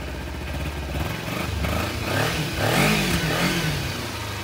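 A Kawasaki Ninja 250 motorcycle engine idles and revs steadily up close, running smoothly without extraneous noises, the pitch rising and falling smoothly with a continuous mechanical drone throughout.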